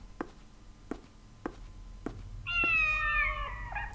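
Cats in the video game Tale of a Hero let out a drawn-out, wavering meow, preceded by a few evenly spaced soft taps over low background hum.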